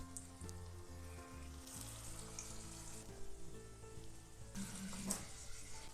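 Sweet potato paniyaram balls sizzle in a paniyaram pan over low heat, a steady soft frying hiss running throughout with background hum and a few faint clicks.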